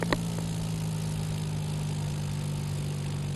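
An aircraft engine in a flight simulator runs at idle with the power pulled all the way back, giving a steady, low, quiet hum that holds even throughout, and no one speaks.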